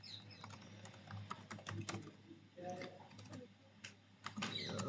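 Rapid typing on a computer keyboard, irregular bursts of close key clicks and clatter, with a person talking over and between the keystrokes.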